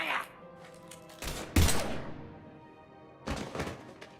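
Gunfire in the video game Mass Effect, a few heavy thumping shots in separate bursts with quiet gaps between them, close and fairly loud, with a faint voice briefly at the start.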